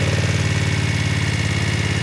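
BMW F 900 R twin-cylinder motorcycle engine idling nearby, a steady, loud, even throb with a regular pulsing rhythm throughout.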